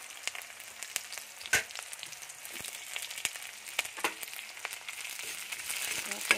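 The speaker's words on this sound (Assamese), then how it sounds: "চাওক তেল গৰম হ'ল, মই এয়া পিঁয়াজ দি লৈছোঁ।" Chopped onions fry in hot oil in a pan for pork curry, giving a steady, close, crackling sizzle throughout, with occasional louder pops and stirring scrapes.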